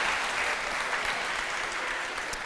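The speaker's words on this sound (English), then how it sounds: "A big round of applause for Flavia and Daniel, please." Audience applause at an innovation labs demo day, a steady round of clapping from a crowd that holds at even strength throughout, with no speech.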